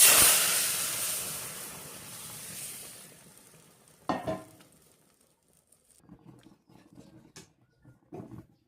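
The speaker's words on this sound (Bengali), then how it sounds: "তেলটা গরম হয়ে গেছে, সম্বরে লাগছে শুকনো লঙ্কা, পাঁচফোড়ন আরও তেজপাতা।" Dried red chillies, panch phoron and bay leaves hit hot oil for a dal tempering, giving a loud sizzle that fades over several seconds, followed by scattered stirring clatters and crackles, close by.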